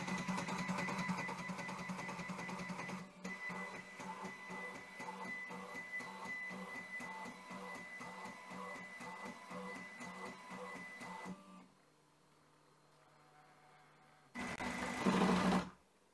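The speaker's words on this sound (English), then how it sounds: "So I'll do my 3 different torture macros." A 3D printer fitted with metal parts runs fast torture-test moves at high acceleration, its stepper motors whining and buzzing in rapid rhythmic bursts for about eleven seconds, then a quieter pause before a brief loud burst of motion near the end.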